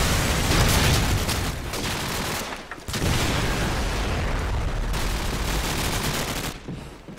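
Gunfire in a Call of Duty 4 ProMod match, with a pistol in play: dense bursts of shots crackle loud and close for several seconds, broken by a brief lull before firing resumes.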